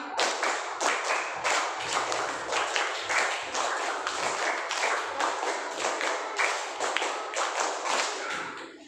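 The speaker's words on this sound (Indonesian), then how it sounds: "tepuk 5 kali" In a school classroom, a group claps their hands together in a steady, rhythmic run of sharp, close claps that continues throughout without anyone talking.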